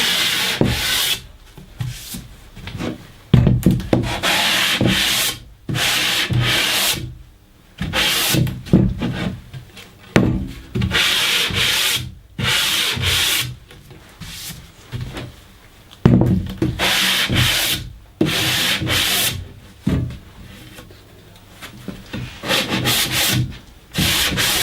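Cut MDF edges sanded by hand with 180-grit sandpaper: close, steady rasping strokes in a repeated back-and-forth rhythm, broken by short pauses, with no talking.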